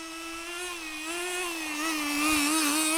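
Small nitro engine of a 1/10 scale Bycmo RC car drones steadily at a high buzzing pitch, rising and wavering slightly as the throttle changes, fairly close and continuous with no talk.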